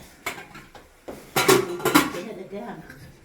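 Pots and pans clatter and clank together in a few loud bursts, near and sharp, with some voices talking around the handling.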